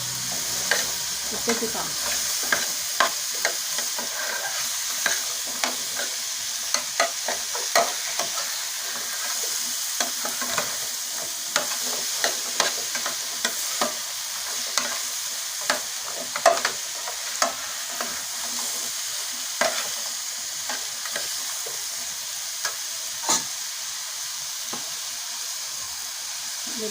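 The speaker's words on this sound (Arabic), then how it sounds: "نشوحهم برضو مع بعض. التشويحة دي بتخلي الخضار متماسك ويطيريش" Vegetables sautéing together in a pan, giving a constant hissing sizzle with regular scraping stir strokes throughout, and a brief spoken remark.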